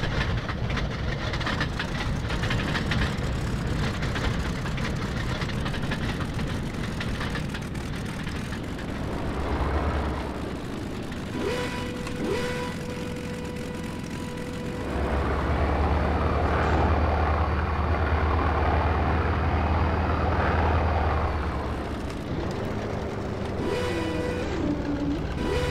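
A Fiat G.55 fighter's engine running on the ground after landing in the IL-2 1946 flight game, a steady, loud droning hum that briefly dips, then swells into a deeper rumble with tonal whines near the end.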